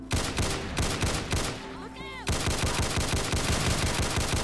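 Rapid automatic gunfire in the shooter Project Einherjar comes in loud, close bursts. A brief pause with electronic whooshing tones splits two stretches of continuous fire, and speech is mixed in.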